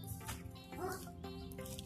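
Magic wolves in the Code Lyoko video game bark and yip in short, quick bursts at a modest level, mixed with game sounds and overlapping chatter from players.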